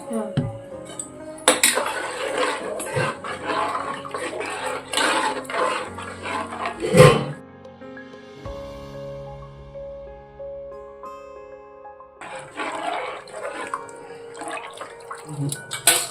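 Water is poured from a vessel into a pot of half-cooked fenugreek leaves for methi pulao, with splashing pours, clinks of metal pots and utensils, and quieter stretches between pours.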